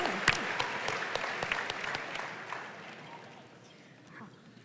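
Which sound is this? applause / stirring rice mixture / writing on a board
applause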